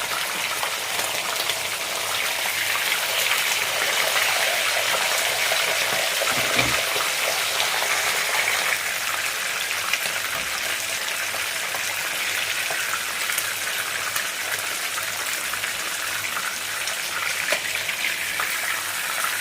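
Sea bream frying in a pan, a steady, even hiss of hot oil that keeps going at constant loudness with one faint knock partway through.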